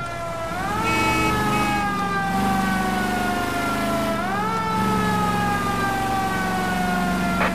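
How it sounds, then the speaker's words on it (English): Police car siren from the L.A. Noire video game wails loud and close, rising and falling in long sweeps over a steady engine rumble, with no talk. "If you're gonna drive like this, at least use the siren."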